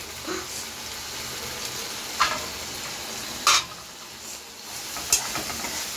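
Chicken masala fries and is stirred in a pan while tomato rice is being made. A soft, steady sizzling hiss runs throughout, broken by a few brief scraping clicks from the utensil.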